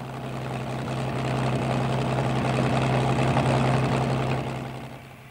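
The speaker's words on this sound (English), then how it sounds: "Some planes today still use propellers." A propeller plane engine drones steadily with a low humming tone, swelling and then fading as it passes, heard alone without talk.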